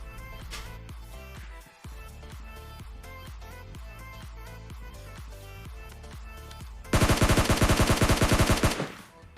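Gunfire in the mobile battle-royale game PUBG Mobile Lite: steady, evenly spaced single shots for several seconds, then a louder rapid automatic burst near the end that cuts off sharply.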